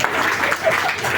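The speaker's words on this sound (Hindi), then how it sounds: "वाइफ ताली बजाओ।" An audience of housewives claps loudly together, producing a dense, sustained burst of applause at close range with no speech over it.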